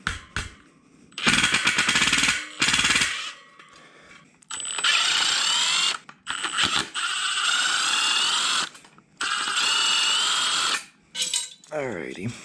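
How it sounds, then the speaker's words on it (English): Impact gun removing bolts from a 2019 Honda CRF450R dirt bike, loud close bursts of rapid hammering in several separate runs of one to two seconds each, with short quiet gaps between them. "And then I just kind of go through with the impact gun."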